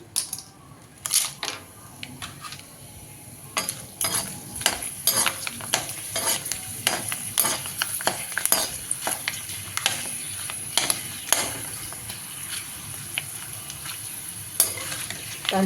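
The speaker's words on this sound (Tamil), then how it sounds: "இப்போ உருளைக்கிழங்கு வத்தலை பொறிச்சு பார்க்கலாம் எப்படி வருதுன்ட்டு அடுப்பில் கடாய் வச்சுருக்கு எண்ணெய் வச்சுருக்கேன்" Dried potato crisps (vathal) frying in hot oil in a kadai, a steady close sizzle with bursts of crackling pops throughout, no talking.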